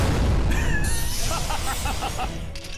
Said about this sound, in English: looked like we got another cannon